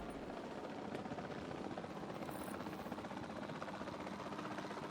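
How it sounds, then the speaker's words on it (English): A video game helicopter drones steadily, a continuous whirring rotor and engine roar held at an even level throughout, with no speech over it. "Hop back in the helicopter, grab the rest."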